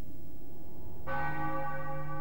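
A church bell tolls in Final Fantasy IX, one strong resonant strike that rings on with sustained overtones after a quiet, low rumbling lead-in, fairly loud and unaccompanied by voices.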